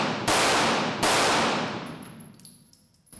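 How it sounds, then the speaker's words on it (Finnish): Two sharp, loud pistol shots from a CZ Shadow 2, about three quarters of a second apart, ring out on a shooting range, each followed by a fading echo, with a faint clink after. "Ammutaan vähän lisää."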